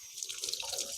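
Hands being rinsed under a running kitchen tap, a brief, soft splash of flowing water close by.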